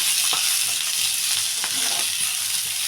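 Capsicum frying in a couple of spoons of oil gives a steady, close sizzle throughout, with occasional soft stirring scrapes and no talking.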